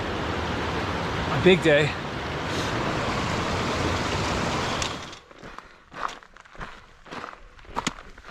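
A rushing mountain creek beside a camp on the John Muir Trail gives a steady white-noise roar for about five seconds, then fades into quieter surroundings with footsteps and a brief spoken phrase.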